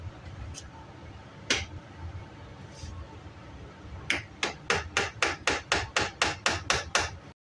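Hammer blows and prying on old boards being pulled off a tack room wall, a few scattered knocks followed by a quick steady run of about a dozen sharp hammer strikes, fairly close.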